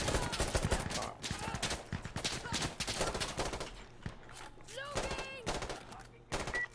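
Bursts of automatic gunfire in the tactical shooter Insurgency Sandstorm, loud and close, firing in repeated volleys with brief pauses, then quieter scattered shots near the end.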